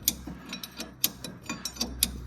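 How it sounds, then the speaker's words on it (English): Homemade bent spanner tightening a nut on a Massey Ferguson MF 1250 tractor during an oil leak repair, giving a series of sharp metallic ratcheting clicks at an uneven rhythm, close and moderately loud. "You can actually get in there and got some chance of getting the nut tightened up."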